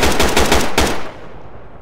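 A rifle emptying its magazine in Project Reality during a Falklands War battle, a fast burst of loud close shots that cuts off and leaves a fading echo.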